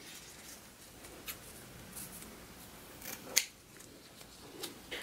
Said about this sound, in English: fold it in half, the open ends on the bottom, the fold on the top, and cut at a diagonal, just like that